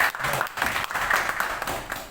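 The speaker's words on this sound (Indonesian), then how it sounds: "Kita tepuk tangan terlebih dahulu." Indoor applause from attendees at a South Jakarta regional border-area meeting, a brief burst of many hands clapping that holds steady and then starts to fade.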